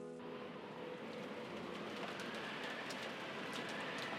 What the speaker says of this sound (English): The rain was pouring down spectacularly.